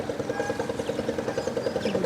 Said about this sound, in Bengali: আরেকটা নৌকা এসে থামলো,